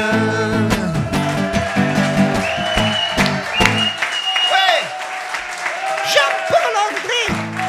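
Loud audience applause mixed with music and cheering, a voice briefly speaking over the clapping.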